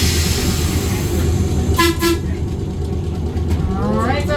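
Interurban Trolley #64 at the Ohio Railway Museum begins to move, with a loud, steady rolling rumble and two short horn toots near the middle, then a rising whine as it pulls away.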